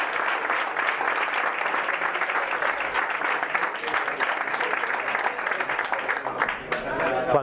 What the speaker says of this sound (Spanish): Y un aplauso, por favor, para Antonio.